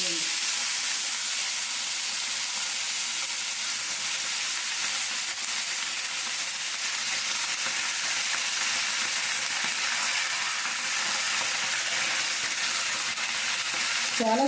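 Homegrown mint leaves fry in a pan for mint chutney, giving a continuous even sizzle with soft hissing and faint stirring underneath, steady from start to finish.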